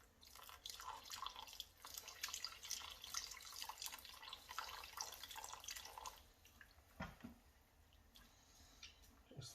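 Water poured into a pan of pasta sauce with chicken chunks, a faint steady splashing and trickling that eases off after a few seconds into quieter drips.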